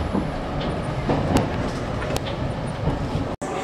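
A Kintetsu express train pulls into Yamato-Saidaiji station, a loud continuous rumble of wheels with clattering rail joints and a brief squeal near the platform.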